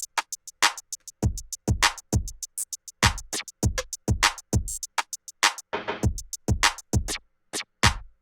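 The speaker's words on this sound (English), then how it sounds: "So all those drum sounds together sound like this." Sampled drum hits layered together into a repeating percussion pattern, punchy low kicks alternating with bright snappy hits in a steady rhythm, loud and close with no talking.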